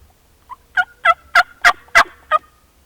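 Wild Merriam turkeys gobble in a South Dakota spring field, a run of about seven sharp, rattling calls in quick rhythm, moderately near and clear over a quiet outdoor background.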